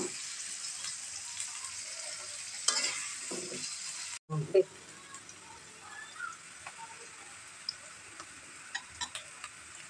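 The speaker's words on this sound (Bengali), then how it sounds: "এরপর চুলায় কড়াই বসিয়ে তেল, পেঁয়াজ এবং অন্যান্য মশলা দিয়ে দিলাম।" Onions and spices frying in oil in a wok for chicken biryani, a steady close sizzle with scattered stirring clicks and a sharp clatter partway through.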